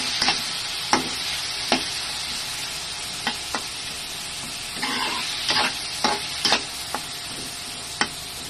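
Vegetables and tomato sautéing in a frying pan give a steady close sizzle, broken by sharp scrapes and clacks of a spatula stirring at irregular intervals.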